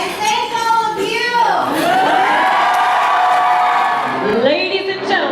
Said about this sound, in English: please give one more big round of applause to this beautiful newlywed couple